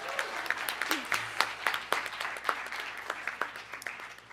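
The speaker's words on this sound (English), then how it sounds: "Please give her a round of applause." Audience applause fills a council meeting hall, a steady patter of many hands clapping for several seconds at moderate distance, with a voice briefly audible underneath.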